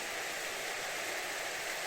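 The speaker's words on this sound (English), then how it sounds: "There's a small stream waterfall falling into River Tilt." Small stream waterfall spilling into the River Tilt along a Scottish hiking trail from Blair Atholl, heard as a soft, steady hiss of falling water, faint and continuous with no voices.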